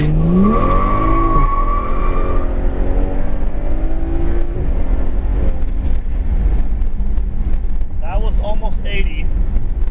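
A 2011 BMW 135i DCT with stage 2 tuning accelerates hard at full throttle with the window down, its engine roaring loud and steady through the upshifts, while a driver talks over it.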